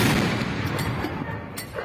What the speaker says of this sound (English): this ceremonial battery of 25-pounder guns, which dates back to World War II, fires 21 salutes